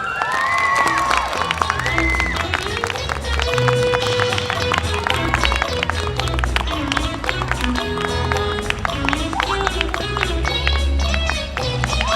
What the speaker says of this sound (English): Please give a big round of applause for Sundrop.